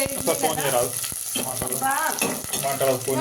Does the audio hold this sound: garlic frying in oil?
yes